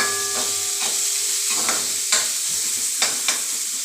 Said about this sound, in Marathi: आपण थोडासा गुलाबी रंगावर परतायचा